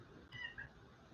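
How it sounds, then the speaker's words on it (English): A pet cat gives a short, faint meow from the hallway, a brief distant cry against a quiet indoor background. "Sorry, I just thought I just heard my cat."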